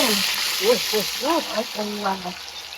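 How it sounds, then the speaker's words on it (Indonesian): Tofu fries in hot oil in a simple village kitchen, giving a steady, bright sizzle while voices murmur faintly over it. "Goreng tahu."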